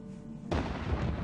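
An artillery bombardment in the naval combat game From the Depths lands as a single sudden heavy boom that rolls on into a dense rumbling wash, moderately loud and heard alone after a quiet lead-in.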